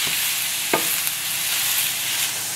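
Bell pepper sizzles in a hot stainless steel pan, a dense steady frying hiss heard up close, with a brief utensil knock early on and no talking.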